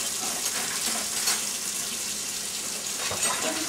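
Water running steadily from a kitchen tap while baking a cake, a continuous hiss of flowing liquid with slight splashing variations, moderately quiet and close, with no talk.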